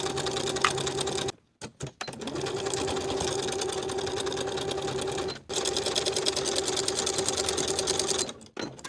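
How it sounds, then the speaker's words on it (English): A sewing machine stitches a coat's inner pocket in long, steady bursts, loud and close, with two brief stops between runs. "Sewing this inner pocket together only, including that top triangle."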